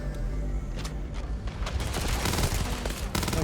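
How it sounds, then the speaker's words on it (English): Three-round burst rifle fire in the Starfield video game, sharp clustered shots cracking in quick groups over a busy combat din, loud and close. "it's 3-round burst"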